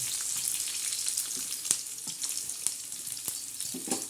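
Onion frying in a pan with bombil fish for a tomato thecha, giving a steady close sizzle with sharp spatter crackles and light stirring scrapes throughout.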